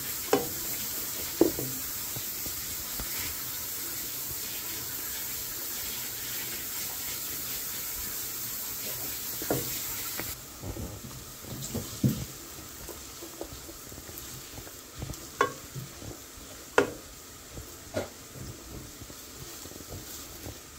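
Onion, ginger and garlic stirred and fried in a pan, with a steady sizzling hiss under occasional scrapes and knocks of a spoon against the pan, close and continuous.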